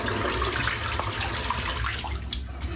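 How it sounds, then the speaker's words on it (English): A shaving brush is rinsed under a running tap, giving a steady, loud rush of water with splashes throughout and a few sharp flicks or drips near the end. "I find I have to really rinse this over and over again just to get right deep into the"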